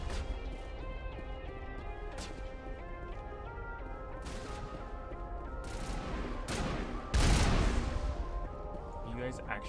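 Video game gunfire rattles in rapid repeated shots, growing denser toward the end with a heavy crashing volley, close and loud over a droning background.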